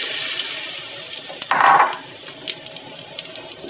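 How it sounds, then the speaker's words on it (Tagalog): Water being poured into a cooking pot while making chicken tinola, a short burst of splashing that rises and fades within a quiet kitchen. "Maglagay na tayo ng konting tubig lang."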